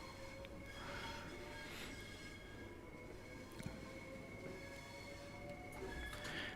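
A South Eastern High Speed class 465/9 electric train in a train simulator game runs along the line at a quiet level, with a steady rumbling drone, faint whine and a few soft clicks and knocks of wheels over track.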